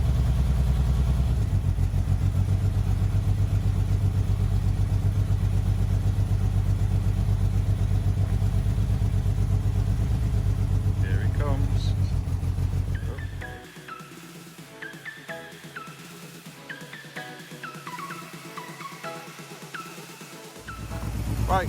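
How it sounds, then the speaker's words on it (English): A 1979 Opel Monza series 1 barn find, freshly worked on, idles while warming up, a steady low engine drone that drops away partway through, leaving lighter mechanical clatter and faint ticking before the hum swells back. "we're warming the engine through now"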